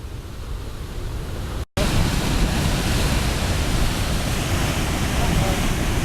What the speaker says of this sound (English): this is a 4-meter swell hitting the west coast of Morocco